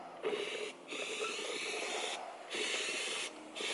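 A powder coating spray gun hisses in steady bursts, broken by short pauses, with a soft airy rush filling each burst.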